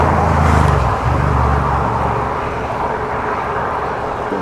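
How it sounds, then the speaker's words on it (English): Motorbikes from a festival pass along a country road in Western Australia's wheatbelt, a loud low engine roar that swells early and then settles into a steady rumble of passing traffic, with no talk. "Lots of motorbikes from the festival."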